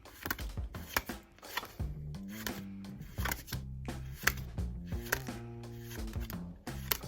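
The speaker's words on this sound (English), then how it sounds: "make sure that the deck is completely shuffled once again" Quick riffling shuffles of a deck of cards, crisp rapid flutters repeating several times, close up with no talking.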